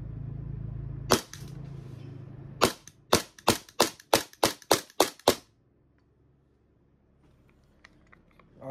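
A KP02 airsoft pistol with a metal slide fires one sharp crack, then after a pause a rapid string of about eight close, snappy shots at an even pace. Quiet follows, with faint handling noises.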